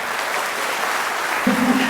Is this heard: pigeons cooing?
no